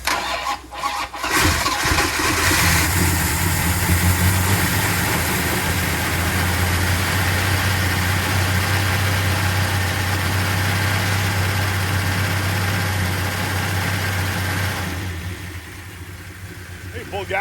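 A 440 V8 in a 1968 Dodge Coronet RT cranks, catches and settles into a steady, loud, close idle that holds for most of the clip before easing down near the end.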